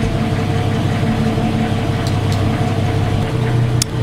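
A car engine idling rich during wideband lambda sensor testing, a steady low rumble with a continuous hum, close and unbroken throughout, with a couple of faint clicks near the end.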